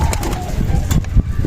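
Pigeons cooing close by in a loft, soft throaty coos overlapping with light rustling and brief wing movement, loud and near with no talking.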